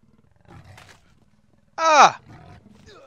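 A big cat roars loudly while attacking in the survival video game Subsistence, a single harsh roar after quieter growls and rustling game sounds.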